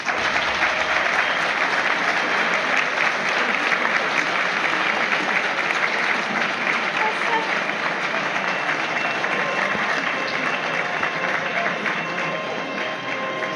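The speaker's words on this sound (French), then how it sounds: "merci d'accueillir en musique et sous vos applaudissements, s'il vous plaît, le cortège des différentes personnalités de l'Université de Lorraine" An audience applauds the procession of University of Lorraine dignitaries at a ceremony, a loud, sustained wash of many hands clapping that stays even and continuous throughout.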